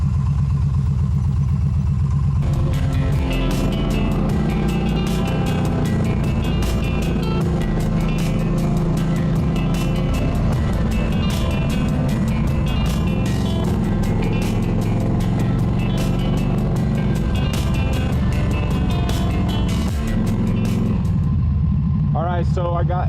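Car driving around a residential neighborhood, a loud continuous engine and road rumble filling the cabin throughout, with a voice talking over it.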